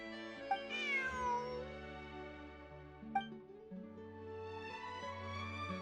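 A cat in the video game Genshin Impact gives a few clear, tonal meows, some rising and falling in pitch, over a soft musical background with no talking.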